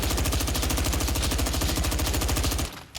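An MW2 Honey Badger rifle in a Fallout 4 mod fires in a loud, sustained automatic burst of rapid, evenly spaced shots close up. The burst stops abruptly near the end and is followed by one faint click.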